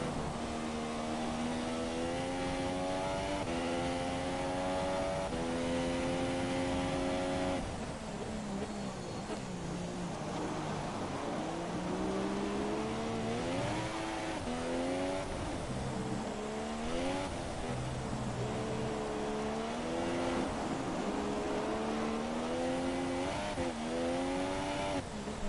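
F1 race car engine in a racing video game, testing at Barcelona in the rain, a loud high-revving whine climbing and dropping through gear changes as the car drifts through corners, with no voices.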